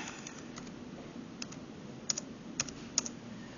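Laptop keyboard being typed on to enter a password, with quiet, close keystroke clicks in an irregular rhythm and a few sharper taps near the end.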